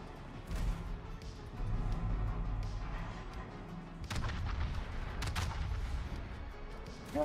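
Warship guns, including those of a Seattle, fire in the naval game World of Warships, with heavy booming salvos and rolling rumbles in several bursts and no talk over them.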